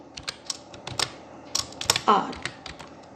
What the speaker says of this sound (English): Here again I type BR, BR, BR.